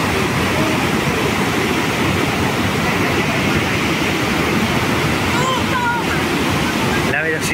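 The roaring water of Iguazu Falls, a thick, steady wall of rushing noise close by and very loud throughout, with faint bird calls and a brief voice breaking through near the end.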